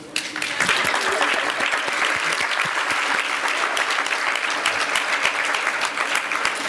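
A lecture audience at the ASA Women's Caucus applauds the caucus founders, with dense, sustained clapping from many hands and a few faint cheers mixed in, loud and even throughout.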